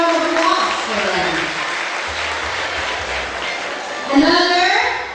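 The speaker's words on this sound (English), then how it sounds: "So I have a big round of applause for them." Broad, steady applause from a school audience honoring a champion dance group during a leadership training gathering, running the whole stretch with voices and cheering mixed in and a brief louder swell near the end.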